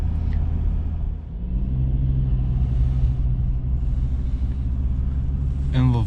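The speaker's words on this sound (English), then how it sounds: "It's a little bit noisy because this is the diesel" Diesel engine of a Ford Ranger pickup truck running: a steady low rumble with a droning idle hum that holds throughout, close and moderately loud, with faint talk in the background.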